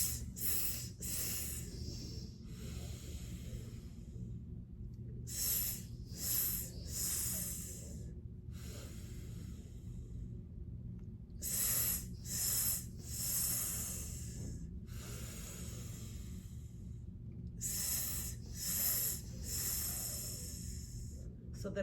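Deep, slow breaths drawn in while seated on the edge of a chair for spine exercise, a repeating cycle of airy, hissing inhalations every few seconds, close and steady with a low background hum.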